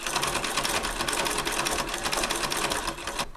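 A vintage treadle sewing machine runs steadily, giving a dense, rapid mechanical clatter at a fast, even rhythm. It is fairly loud and close, and it stops abruptly just before the end.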